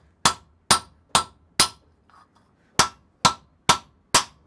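Eight sharp hammer blows on metal while dishing the centre of a piston, four quick evenly spaced strikes, a short pause, then four more, each a bright ringing clang close up.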